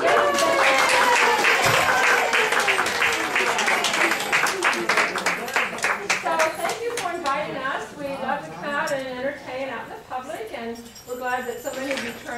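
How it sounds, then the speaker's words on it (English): An audience at a dog performance breaks into enthusiastic applause that gradually thins out, giving way to scattered cheering and chattering voices from the crowd. "let's give them a round of applause"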